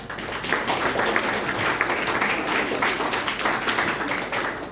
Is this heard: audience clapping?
yes